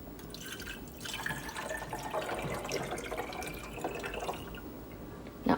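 Water poured from a coffee cup into the reservoir of a CHULUX single-serve K-cup coffee maker, a steady close splashing trickle that runs nearly the whole time and ends with a small clunk.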